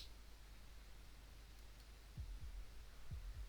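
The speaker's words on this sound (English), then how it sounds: "That was the sound of a heartbeat," A faint, slow heartbeat in the video game Slay the Princess, four soft low thumps arriving in two pairs near the end after a stretch of quiet hum.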